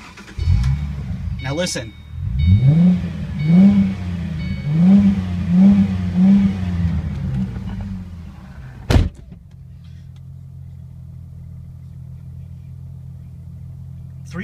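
A 2008 Ford Mustang convertible cranks and fires up, then revs in five or six rising-and-falling pulls before settling to a low steady idle, with a sharp thump partway through and someone talking over it.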